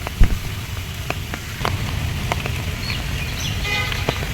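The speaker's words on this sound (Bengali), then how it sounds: "পাখির আওয়াজ, বৃষ্টি সব মিলে একাকার।" Steady rain falls around the Eastern Railway headquarters building in Chattogram, Bangladesh, a continuous hiss with scattered drips and a few bird chirps near the end.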